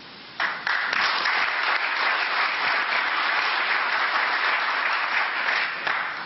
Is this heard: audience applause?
yes